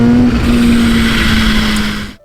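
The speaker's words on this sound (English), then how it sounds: "But the sound of that supercharger flutter?" Kawasaki H2 SX supercharged 999 cc four-cylinder motorcycle running loud and close, a steady engine drone with a whining tone and fluttering texture that cuts off abruptly at the end.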